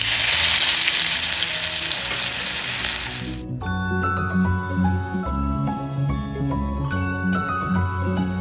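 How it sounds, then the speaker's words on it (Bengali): Koi fish dropped into hot mustard oil sizzle loudly at first, a bright hissing fry that cuts off after three seconds, leaving background music playing alone. "আর তেল গরম হয়ে গিয়েছে, এখন কই মাছ ছেড়ে দিচ্ছি।"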